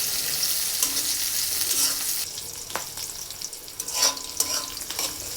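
Onions and green chilies fry and sizzle in oil for a Bengali rohu fish curry with cauliflower, with a steady hiss broken by several sharp spatula scrapes and stirs. No voice is heard.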